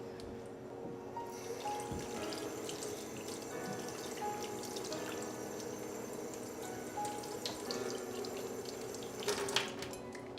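Running tap water pours steadily into a sink while a makeup brush is rinsed under it, a continuous splashing flow with small trickles and drips, close and moderately loud, no voices.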